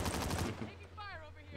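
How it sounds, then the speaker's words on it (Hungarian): A hand cannon fires in a Call of Duty match, giving a quick run of heavy, closely spaced shots in the first half second. Game sounds carry on after, and a voice talks over part of it. "ez egy shoti? Ez nem shoti, ez kézi ágyú."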